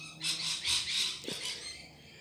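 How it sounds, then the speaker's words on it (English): Noisy birds in a garden let out a quick string of three or four harsh squawks close by, then the calls trail off into quiet. "Noisy birds."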